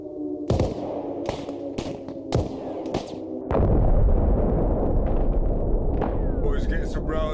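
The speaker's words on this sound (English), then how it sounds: "Proper firefight going off around me" A firefight in the Arma Reforger military video game: sharp single gunshots crack at a steady pace, then a heavy explosion gives way to a loud, sustained roar of battle with scattered distant shots.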